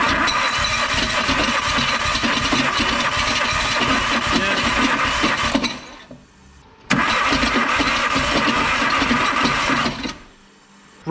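A Nissan Micra K11 engine from a turbo time-attack build cranks on the starter during a compression test, a loud steady churning in two long bursts separated by a short pause.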